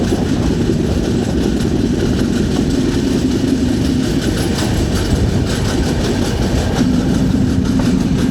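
Rajdhani Express 12431 rolling through Ernakulam district toward the Nettoor canal bridge, a loud, steady rumble of wheels and carriages with continuous rattling clickety-clack, heard from on board.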